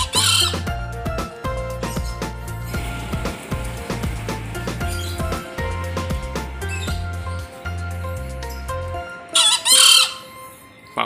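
Green junglefowl in a roadside training cage, with loud, close squawking calls and chirps over layered background music, then a sharp burst of calls near the end.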